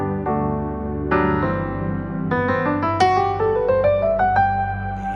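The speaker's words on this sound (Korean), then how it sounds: "키보드 소리가 들리시나요?" Keyboard played during a church worship service setup, with a sequence of clear sustained notes and chords rising in pitch, played alone at moderate loudness with no talking.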